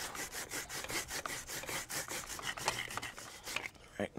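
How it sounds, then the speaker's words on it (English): Stiff brush scrubbing an MV Agusta F3 800 wheel and chain in quick back-and-forth strokes, a close, rough rhythmic rasping with no voices. "Grab our brush and simply start scrubbing"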